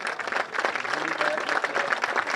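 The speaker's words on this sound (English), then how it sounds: "Let's give one more round of applause for our" Crowd applause at a football-game ceremony honoring distinguished alumni, a dense, steady wash of clapping from many people, moderately loud throughout.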